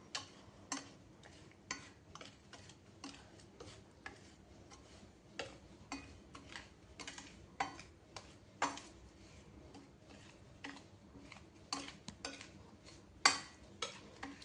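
Spice masala being stirred into cooled oil for a pickle of drumstick pods, heard as a steady run of small, light clicks and scrapes of a spoon against a vessel, fairly close and fairly quiet, with no talking.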